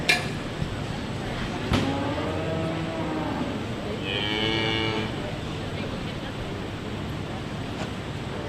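Cattle at a county fair dairy and beef livestock show moo twice, long drawn-out lows over a constant background of wind and crowd noise, with a sharp knock between.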